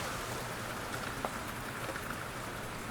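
Steady rain falls evenly throughout, a dense continuous patter on a surface with a few faint individual drop hits and no voices.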